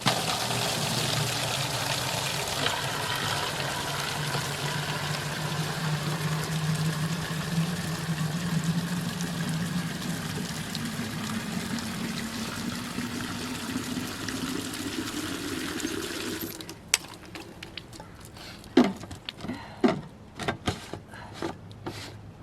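An outdoor garden tap on a rural property with laying hens runs water in a steady close pour for most of the clip, then stops, leaving scattered clicks and knocks.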